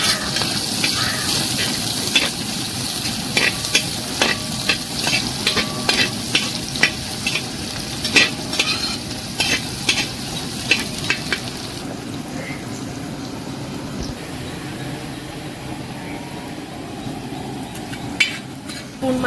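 Onion fries in a pan for a fish head curry, giving a steady sizzle with repeated scraping and clicking from stirring.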